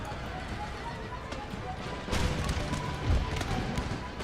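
Cavalry horses gallop in Empire: Total War, a steady rumble of hooves with a horse whinny, the hoof noise swelling louder partway through amid battlefield din.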